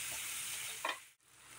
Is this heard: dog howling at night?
no